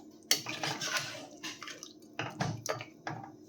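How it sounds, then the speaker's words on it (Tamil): Water splashes and trickles into a pot of mutton curry in short uneven bursts, with a few light metallic knocks, close by and fairly quiet. "உங்களுக்கு எவ்வளோ தண்ணி தேவைப்படுதோ அதை பார்த்து சேர்த்துக்கலாம்"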